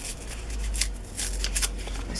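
A small paper coin envelope is set down and sealed shut at a craft table, giving soft, close paper rustles and crinkles in a few quick bursts.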